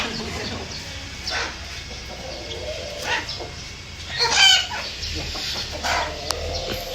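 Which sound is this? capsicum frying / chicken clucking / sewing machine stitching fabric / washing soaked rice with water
chicken clucking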